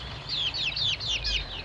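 Day-old chicks in a brooding pen, a quick run of about six high, clear peeping cheeps in a steady rhythm, close and fairly loud.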